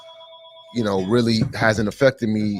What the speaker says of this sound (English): That's the phone right there.